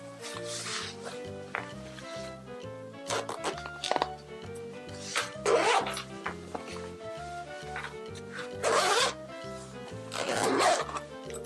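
Zipper being pulled closed on a patterned iPad Air 5 case holding the iPad and a Logitech K380 keyboard, several close rasping zip strokes in bursts over faint background music, no talk.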